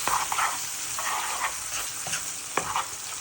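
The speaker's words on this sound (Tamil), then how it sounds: "அதை நல்லா மிக்ஸ் பண்ணிங்கன்னா கட்டியாகும்" Coconut milk is stirred into a simmering lamb curry masala in a pan, giving a steady bubbling sizzle with several distinct scraping and knocking strokes of a spoon, moderately loud and close.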